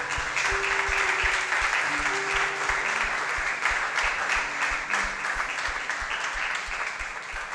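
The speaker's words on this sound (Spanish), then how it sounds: "Iglesia, dale un aplauso al Señor." Church congregation at a Spanish-language service clapping together, a loud, dense, steady applause lasting the full stretch, with faint sustained instrument tones and a regular low beat underneath.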